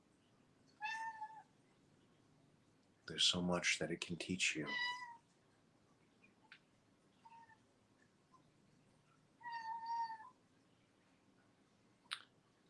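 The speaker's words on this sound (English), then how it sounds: "That's my cat" A domestic cat meows a few times during a quiet evening meditation class: one short meow early on, then a louder stretch of vocalizing mid-clip and another meow later. The calls are fairly close and loud, with a calm voice speaking in between.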